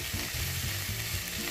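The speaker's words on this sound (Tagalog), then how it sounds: "Tapos mainit na ang mantika, ilagay na natin ang bawang." Garlic sizzles in hot cooking oil in a pan while beef liver is being cooked, giving a steady, dense hiss with a low rumble underneath and no talking.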